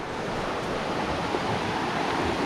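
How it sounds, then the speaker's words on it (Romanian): A fast mountain trout river rushes past close by, a dense, constant roar of churning water with no breaks, loud and unchanging throughout. "Hai să vă arăt cum arată râul repede."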